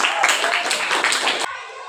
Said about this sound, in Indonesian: Oke, silakan tepuk tangan.